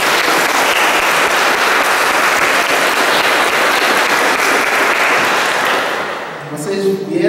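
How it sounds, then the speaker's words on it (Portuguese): A church congregation in Ribeirão Grande gives a loud, steady round of welcoming applause for visitors from many towns, which fades after about six seconds as a voice begins speaking. "Uma salva de palmas de boas vindas"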